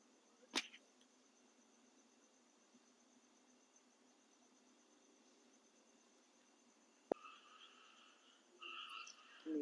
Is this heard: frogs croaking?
yes